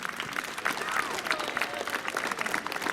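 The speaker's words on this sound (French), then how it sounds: "qu'on applaudisse très fort l'ensemble de ces jeunes" A crowd applauds steadily for young players at an under-13 and under-11 youth football tournament in Castanet, a dense wash of clapping with some voices mixed in throughout.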